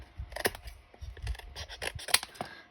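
Scissors snip and trim paper for a handmade garden journal, a string of quick close crisp cuts with small scratchy paper rustles between them.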